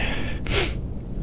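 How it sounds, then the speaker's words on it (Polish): A single sharp sneeze bursts out at close range, a short bright blast of breath standing clear above a steady low background hum. "kicha mi się"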